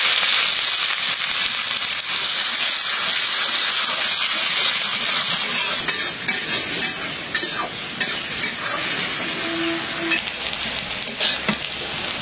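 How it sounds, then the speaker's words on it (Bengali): Garlic and onion fry in hot oil with a steady, loud sizzle that holds for the whole stretch, broken now and then by the scrape and clatter of stirring. No one speaks. "রসুন পেঁয়াজ ভেজে নিলাম।"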